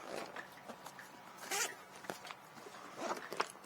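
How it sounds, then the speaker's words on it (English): Zipper on a compartment of a 5.11 MOAB 6 sling bag being drawn open in a few quick, quiet rasping pulls, close by, separated by soft handling rustles. "those zippers go all the way down, so I can open this thing up like I really would like to"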